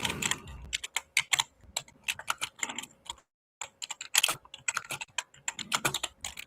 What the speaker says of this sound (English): I'm just typing and ain't nothing going in